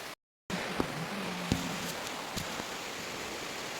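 Steady heavy rain falls outdoors as a constant hissing wash, broken by a few sharp drips and knocks, with no talk.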